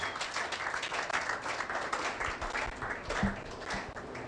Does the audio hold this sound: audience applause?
yes